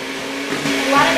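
Carrot cake icing of cream cheese, butter, lemon juice and vanilla being mixed, a steady close whirring hum that grows slightly louder over about a second.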